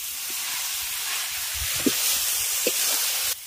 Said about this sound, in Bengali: এবার এটাকে ঢাকা দিয়ে রান্না করব, যতক্ষণ না পর্যন্ত কপিটা খুব ভালোভাবে সিদ্ধ হয়ে যাচ্ছে।